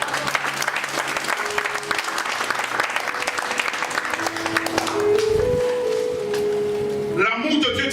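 A church congregation applauds to acclaim the Lord, sustained clapping throughout with a few voices calling out over it, rising toward the end.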